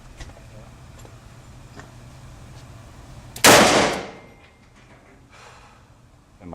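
A single sharp, loud gunshot from a small handgun at a gun range cracks close by amid quiet background noise, followed by a short decaying tail.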